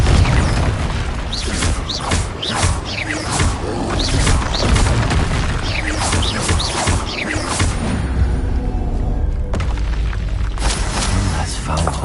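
Confringo fire blast spells from Hogwarts Legacy erupt amid a busy fight against a hulking brute, with a dense run of booming bursts and crashes, then a sharp fresh blast near the end, all loud and close.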